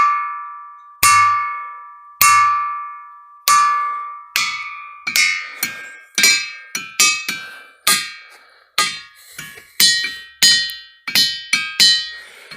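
A hammer strikes the ringing rocks of Whitehall, Montana again and again, each blow giving a bright metallic ring that decays; about twenty loud hits, coming faster toward the end.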